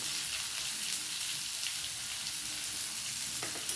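Potatoes fry with onion and garlic, salted and dusted with turmeric, in a pan: a continuous, even sizzle heard up close, with faint stirring scrapes near the end and no talking.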